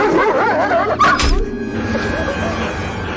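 Dog in a dramatic TV episode barking and yipping, with whimpering notes, under and between people talking, fairly close with some background noise.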